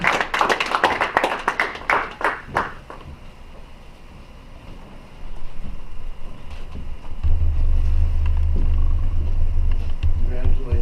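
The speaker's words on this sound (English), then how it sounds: "let's give Liam Bettis a round of applause." Audience at a city council meeting in Taylorville claps in a brief round of applause, loud sharp claps in the opening seconds that thin out, followed by low rumbling noise and faint murmuring.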